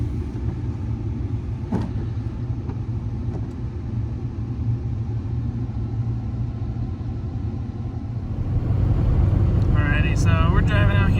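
A car driving out on a remote rural road at night: steady low engine and road rumble throughout, growing slightly louder near the end, with a person talking over it.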